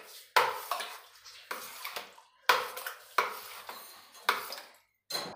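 A spoon stirs potato raita seasoned with chaat masala in a bowl, giving repeated close scraping and clinking strokes in an uneven rhythm, with short pauses between bursts.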